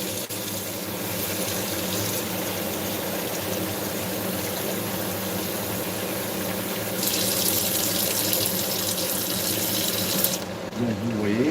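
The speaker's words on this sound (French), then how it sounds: "On va remettre de l'eau bien chaude." Hot water running steadily from a tap into a cooking pot in a home kitchen while pasta fagioli is being made, a continuous close splashing flow that grows brighter and fuller toward the end.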